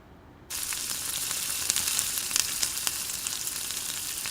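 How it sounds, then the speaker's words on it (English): Ginger, garlic, onion and soya chunks sauté in a hot pan for veg kebabs, a steady loud sizzle starting abruptly after a quiet half-second and crackling on with a few sharp pops, no voices. "ginger, garlic, onion, soya chunks. Saute for a minute."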